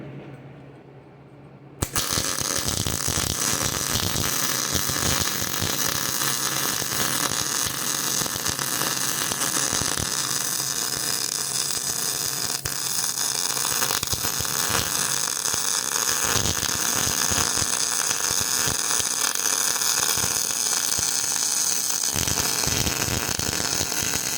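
A MIG welder fitted with a Bernard 25-foot gun lays a weld, producing a continuous harsh crackling buzz that starts abruptly and holds steady and close for over twenty seconds.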